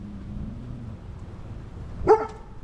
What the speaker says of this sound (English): Was there a dog here before?